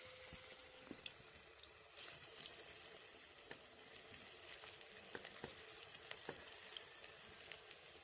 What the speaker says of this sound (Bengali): এবার একে একে সমস্ত চপগুলোকে তেলের মধ্যে ভেজে নিতে হবে।